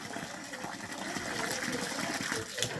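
Water gushes steadily from a garden pipe onto a plant, a continuous close hiss and splash running throughout with faint voices underneath.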